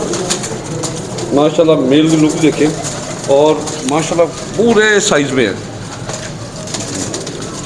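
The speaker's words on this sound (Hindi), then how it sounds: "दोस्तों मेल है, ये मैरों वाले कबूतर है।" Mehron wale teddy pigeons at a bird market give several bursts of throaty, rolling coos, close and fairly loud, mixed with someone talking over them.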